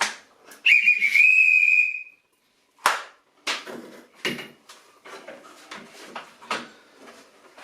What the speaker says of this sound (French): toujours le bon petit coup de sifflet qui va bien